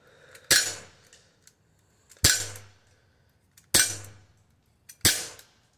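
BB gun fired four times at an even spacing of about one and a half seconds, each a sharp, loud crack with a short metallic ring-out, set against quiet surroundings with no talking.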